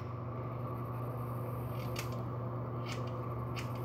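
Several crisp snips of scissors cutting hair while layering, three quick closes spaced about a second apart over a steady fan-like hum, faint and close.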